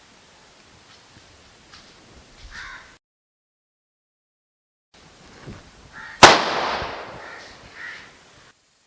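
A firecracker burst played from a smartphone, one sharp loud crack followed by a fading noisy tail, with faint crow-like calls and quiet rustling around it and a silent gap before.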